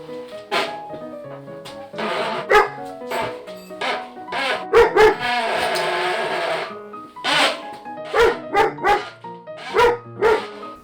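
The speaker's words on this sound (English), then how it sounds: "Can you stop barking?" A dog barks repeatedly at close range during an indoor bicycle brake repair, sharp loud barks in irregular bursts with a longer sustained yelp in the middle, and a person talks between them.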